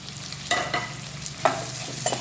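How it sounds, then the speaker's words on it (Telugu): Onions frying in oil in a pan for an egg and chukka kura dish, with a steady low sizzle broken by a few sharp scraping stirs, close and fairly quiet, with no talking. "ఈ ఉల్లిపాయలు మంచిగా పచ్చివాసన పోయేదాకా వేగించుకోవాలి"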